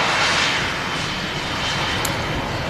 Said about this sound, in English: 3787-9 Dreamliner ready to cross runway 1.